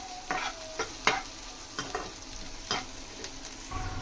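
Ingredients for tomato sherva fry softly in a pan while a spoon stirs them, giving quiet sizzling and several sharp scraping clinks against the pan, close and alone.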